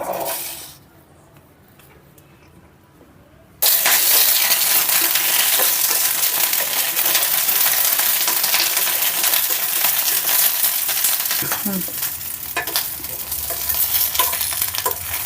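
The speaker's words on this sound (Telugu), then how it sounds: "ఒక టేబుల్ స్పూన్ ఆయిల్ వేసుకొని ఇందులోకి ఒక యాభై గ్రాములు పచ్చిమిర్చి తీసుకున్నానండి ఇప్పుడు వీటిని కూడా ఇందులో వేసి దోరగా వేయించుకుందాం" About fifty grams of green chillies fried in a tablespoon of oil for a roasted gram chutney, a quiet pause and then a sudden loud hiss as they drop into the hot oil, followed by steady sizzling with occasional stirring scrapes.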